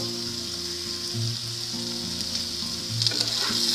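Spice masala for a green bean and potato curry fries in a pan with a steady, close sizzle over a low tonal hum, with a brief burst of crackling near the end.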